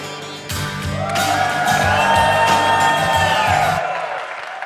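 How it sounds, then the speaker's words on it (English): A live audience at a tech podcast show bursts into loud cheering, whoops and shouts with clapping, starting suddenly, swelling for about three seconds, then cutting off abruptly. "big round of applause"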